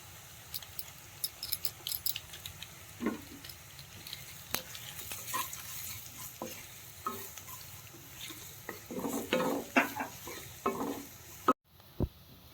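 Maggi noodles fry in a pan as masala is stirred in, with intermittent scraping stirs over a faint sizzle that stop abruptly near the end.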